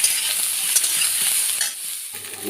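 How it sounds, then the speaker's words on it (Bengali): Oil crackles and sizzles steadily in a hot pan as salted, turmeric-coated eggplant fries in oil already used for fish, with a few clicks of stirring, then the hiss drops briefly before resuming. "এই মাছ ভাজার তেলেই আমি বেগুনগুলো ভেজে নিচ্ছি"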